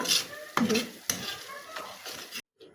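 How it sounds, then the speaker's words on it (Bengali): A spatula stirring chicken with chili powder in a frying pan, a few quick scraping strokes over a light sizzle, ending in a brief silence and one last faint scrape. "একটু মরিচের গুঁড়া দিলাম দিয়ে একটু নাড়াচাড়া করলাম"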